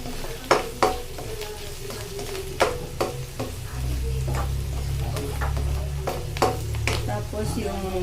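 Mushrooms and pechay stir-fried in a pan, a steady low sizzle broken by sharp scrapes and clacks of a utensil against the pan at an irregular pace, close by.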